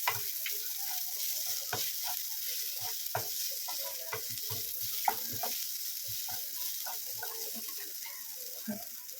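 A spice mixture of chili powder, coriander powder and salt sizzles in a pan while being stirred, with soft scraping strokes at irregular intervals over a steady, quiet fry and no talking.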